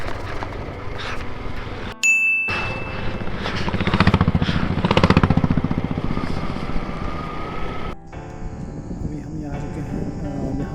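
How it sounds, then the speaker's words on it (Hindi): A group of bikers riding in on motorcycles on a mountain road near Kaza in Spiti, with engine drone swelling as they pass close by and then fading, while people talk over it. "कुछ बाइकर्स का ग्रुप आ रहा है बाहर से।"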